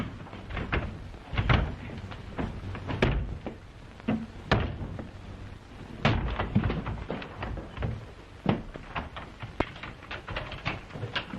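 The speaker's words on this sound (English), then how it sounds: "Open that door at once." A door in an old house rattles and clunks as it is worked open, giving a string of uneven knocks, thumps and latch clatters at close range over about eleven seconds.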